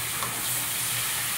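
Bottle gourd greens, beans and potato fry in a pan with a steady, dense sizzle that holds unbroken throughout, close and alone.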